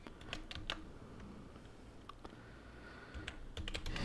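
Typing a Python file on a computer keyboard, a quiet run of scattered key clicks, a few sharper taps standing out at the start and end against low background hum.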